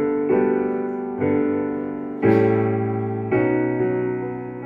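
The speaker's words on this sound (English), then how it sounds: "But to make it a little tougher, the piano is playing a different chord." A piano at a choir rehearsal strikes a series of sustained chords, five distinct attacks each ringing and slowly decaying, clear and alone with no voices.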